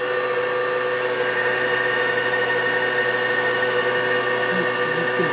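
A fan blowing on a Cleereman drilling machine gives a steady, loud, unbroken whir with a high whine, constant throughout, no voices.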